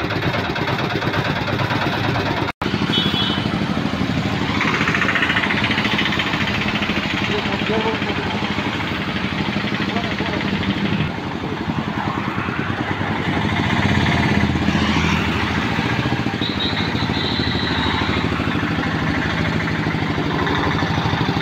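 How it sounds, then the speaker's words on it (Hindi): A Piaggio auto rickshaw engine running after an engine change, a steady mid-pitched idle putter with a few revs, heard close under ongoing talk. "ये हमारी इंजन चढ़ चुकी है, अब गाड़ी चल रही है फ्रेंड्स।"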